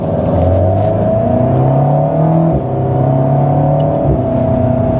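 An Alpine A110 S sports car, 292 hp, accelerates hard with a loud, close engine note climbing in pitch, then drops briefly at a quick gear change around the midpoint before pulling again, with no voices.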